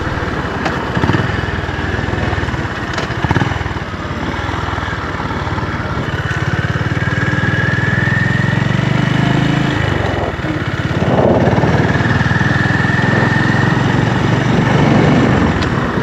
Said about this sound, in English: I'm finding myself in second and third gear most of the time, second at 40 and third at 50